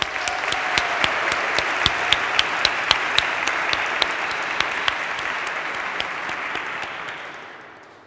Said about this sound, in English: let's give a big round of applause for Johan and the whole IE Tower team